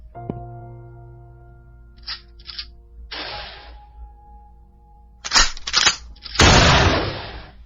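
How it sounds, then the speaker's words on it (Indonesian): Gunshots fired by police in an audio drama, several sharp cracks: two bursts near the middle, then two loud close shots toward the end, over a low sustained musical tone. "Dua tembakan dari polisi berhasil mengenai Luna."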